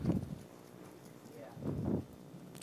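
A horse canters across the center of an arena during a flying change, dull rhythmic hoofbeats in clustered groups on soft footing, moderately close with a faint background hum.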